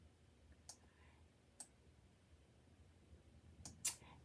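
Sparse computer mouse clicks on a quiet desk while a rhinestone template is laid out in design software: a few isolated, faint clicks spread apart, then a quick pair near the end, with no voices.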